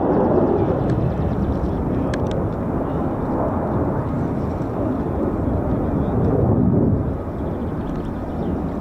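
Fighter jets of the 48th Fighter Wing, US Air Force F-15s and F-35s, flying at RAF Lakenheath: a steady, loud broadband jet roar that fills the clip and eases slightly near the end.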